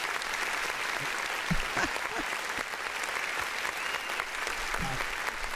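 Applause sound effect played during a live radio stream, steady clapping running continuously at moderate level across the whole stretch, with faint background voices.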